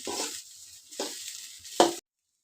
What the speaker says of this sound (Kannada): ಚೆನ್ನಾಗಿ ಫ್ರೈ ಆಗ್ತಾ ಇದ್ದಾವೆ